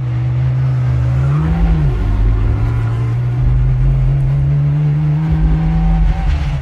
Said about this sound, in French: Écoutez le son du moteur